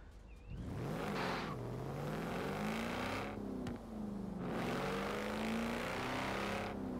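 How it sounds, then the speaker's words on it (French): A tractor engine in Forza Horizon 4 drones loudly at high speed, its pitch climbing and falling through two long revving sweeps with a brief dip between, no voices over it. "un tracteur qui roule quand même à plus de 150 km/h"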